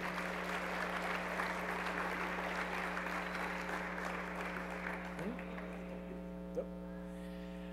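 An audience applauds at an RSEQ gala, a dense clapping wash that thins out and fades near the end over a constant electrical hum.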